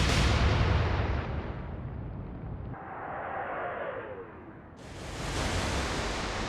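A warship's heavy guns firing in the naval video game Atlantic Fleet, a loud broadband blast that fades into a whistling rush, followed by another loud roar near the end.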